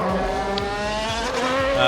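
A 1992 McLaren MP4-7 Formula One car's engine in Assetto Corsa screams and shifts up through the gears as it accelerates, loud and close, with no talking.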